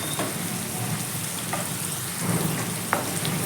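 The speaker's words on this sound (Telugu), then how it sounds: "కాసేపు ఫ్రై అవనిద్దాం ఇక్కడ పచ్చిమిర్చి అనేది బాగా వేగిపోయింది" Green chillies frying in a hot pan for snake gourd rice give a steady, dense sizzle with faint crackles and a few small pops, close up with no voices.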